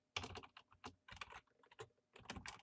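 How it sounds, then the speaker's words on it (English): Quick, close typing on a computer keyboard, with several rapid bursts of light key clicks separated by short pauses, heard clearly with nothing else behind it. "And I'm going to type in"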